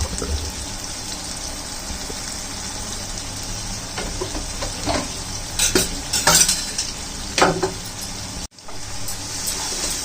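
Masala spices frying in oil in a pan for an usal curry, a soft continuous sizzle broken by several scraping spatula strokes and clinks against the pan, close up, with no talking.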